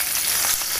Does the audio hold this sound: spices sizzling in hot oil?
yes